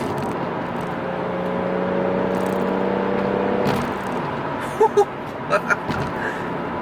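A tuned BMW M140i fitted with a Bluespark module accelerates under load, its engine drone climbing steadily for several seconds before easing off, followed by a few faint clicks and rustles inside the cabin.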